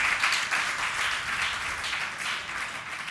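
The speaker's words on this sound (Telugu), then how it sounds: "మీరు చప్పట్లు గట్టిగా కొడితే" A congregation at a women's fellowship church service claps steadily, a loud, even wash of many hands that stays level throughout with no talking.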